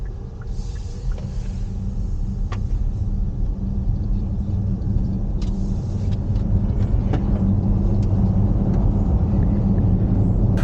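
Cabin of a Kia EV6 electric car while driving: a low, steady road rumble and tire hum fill the interior, with faint occasional clicks and no voices.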